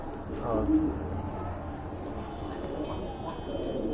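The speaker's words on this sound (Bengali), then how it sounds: "কবুতর ডাকগুলো দেখেন মার্শাল্লাহ ফুটন্ত ডাক" Pigeons coo with low, soft, rolling calls, heard faintly under someone talking amid the background noise of a pigeon seller's stall.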